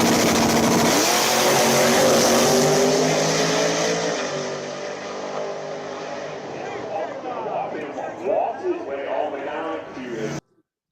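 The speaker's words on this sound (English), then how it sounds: "Nitrous car." A nitrous-fed drag race car engine roars loud and steady with a strained high tone, then drops back and fades as people talk over it before the sound cuts off.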